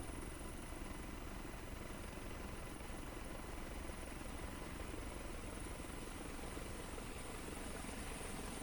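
A helicopter landing at Chakeri Airport in Kanpur makes a steady, distant whirring drone that stays faint and unbroken throughout.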